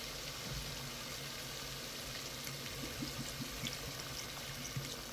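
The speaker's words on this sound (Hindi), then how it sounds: "अब हम इसमें पानी शामिल कर रहे हैं।" Water poured into a pot of mutton that has been fried in its own fat for an okra curry, a steady liquid hiss and bubbling sizzle running throughout with faint clinks, no talking.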